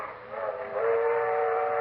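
A train whistle sounds in a long, steady blast with layered harmonic tones, swelling louder partway through and holding.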